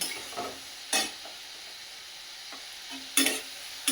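Fish curry stirred in a pan: a few short, separate scraping strokes over a faint low sizzle, close by.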